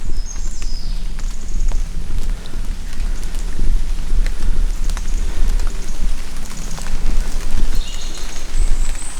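Heavy rain pours steadily on a forest, a dense, loud, constant patter on leaves and ground with scattered nearer drips and no break.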